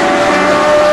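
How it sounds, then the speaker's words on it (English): A 600cc four-cylinder four-stroke Formula 2 racing sidecar engine, a loud sustained buzzing drone held steady at high revs, close and continuous for a brief moment. "that's the 600. Four cylinder, four strokes in these Formula 2s."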